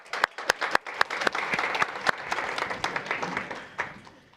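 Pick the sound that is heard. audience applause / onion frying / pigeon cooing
audience applause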